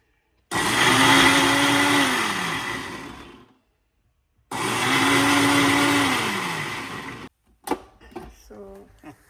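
A mixer grinder whirs loudly while grinding paste with a little water in a mixie jar, running in two long bursts separated by a short pause, followed by faint clatter and handling noises.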